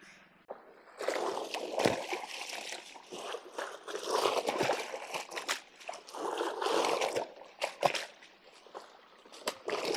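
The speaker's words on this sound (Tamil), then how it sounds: "ஒரு வழியாக பெட்ஷீட்லாம் அலசி போட்டு காய போட்டாச்சு" Bedsheets being rinsed by hand in water, with steady sloshing, splashing and dripping that rise and fall in uneven bursts close by, with no voices.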